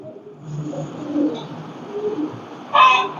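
Crested racer pigeons in a loft give low, soft cooing, muffled and somewhat distant, with a slightly louder burst near the end.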